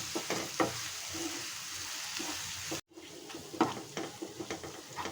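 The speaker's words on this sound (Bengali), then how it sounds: "পেঁয়াজটা আমার ভাজা ভাজা হয়ে গেল।" Onions fry in a pan for a chicken roast, giving a soft continuous sizzle broken by scattered clinks and scrapes of stirring, with a brief cut partway through.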